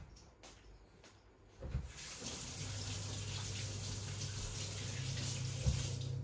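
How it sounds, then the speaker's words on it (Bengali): Hands being washed under a running tap, a steady close stream of water splashing into a sink that begins abruptly after a short quiet start and carries on evenly to the end. "এই যে আমি হাত ধুয়ে ফেলেছি।"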